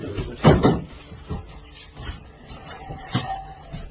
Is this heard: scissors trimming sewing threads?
no